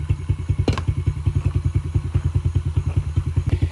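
A long-stored dirt bike engine idles close by, a steady, loud rhythmic thumping of firing pulses with a brief clatter near the start and no talk over it.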